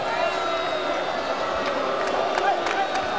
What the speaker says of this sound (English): you hear the reaction of the crowd, none too pleased